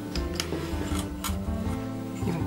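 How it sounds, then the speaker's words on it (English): Caked-on gunk being scrubbed off a 1970s Sanyo cassette recorder, close-up scratchy rubbing in short, uneven strokes with a faint tonal hum in the background. "First things first, I'll remove this caked on gunk,"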